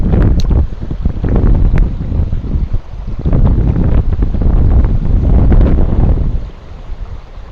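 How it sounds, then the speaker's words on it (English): Gusty wind buffets the microphone beside a river while fishing, a loud continuous low rumble that swells and eases, dropping off near the end. "I'll wait for this wind to stop. It's kind of annoying"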